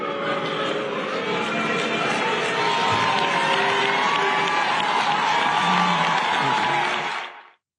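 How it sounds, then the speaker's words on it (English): Large crowd at a ceremony making loud, steady, sustained noise of booing and jeering, a dense wall of voices that holds for several seconds and then cuts off abruptly. "Some might even be booing me."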